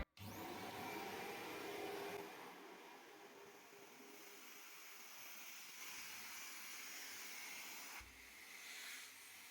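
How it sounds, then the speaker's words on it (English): A Steam Vac Max 1600 PSI carpet cleaner's vacuum runs in a steady, loud hissing roar close by, its pitch and airflow shifting slightly as it sucks at carpet stains. "Just going to put the vacuum on, which will make a bit of noise"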